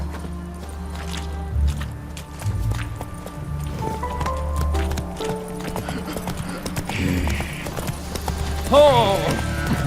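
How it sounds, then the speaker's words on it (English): Hooves clip-clop from a horse ridden in the video game The Witcher 3: Wild Hunt, next-gen version, drumming steadily beneath game music and a voice, with a brief whinny near the end. "Whoa there, Roach."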